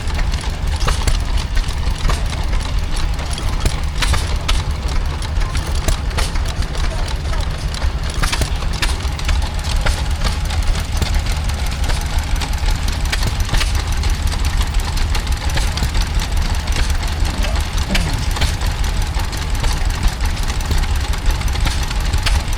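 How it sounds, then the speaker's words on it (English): A 3/4 horsepower Ideal petrol stationary engine from Lansing, Michigan drives a coffee mill at an outdoor rural show, chugging in a steady, close, fairly loud knocking rhythm throughout with constant machinery clatter. "This is a ideal 3/4 horsepower petrol engine."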